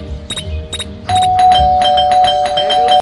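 A doorbell rings with a few clear, bright chimes, then a quicker, continuous run of ringing tones at steady loudness that stops abruptly at the end.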